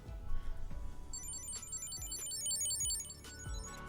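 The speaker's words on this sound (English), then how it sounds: "you can open the app on your phone, ring to find" An item tracker chirps a repeating electronic ringtone in response to a phone app, bright beeping tones pulsing in a steady rhythm over a low background, fairly faint and without speech.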